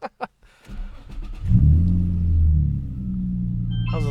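A Nissan G35 sedan fitted with a Z1 touring exhaust starts up with a couple of short clicks, then a deep, loud, rumbling idle swells from near the car and settles into a steady drone, heard up close from inside with no talking.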